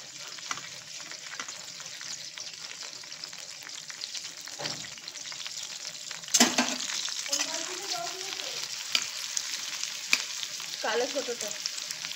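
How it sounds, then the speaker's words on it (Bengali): Sliced onions frying in hot oil in a kadai for biryani beresta: a steady bright sizzle that flares loudly partway through, with occasional stirring clatter and a few brief voices nearby. "এবারে বেরেস্তার জন্য পেঁয়াজগুলো দিয়ে দিচ্ছি।"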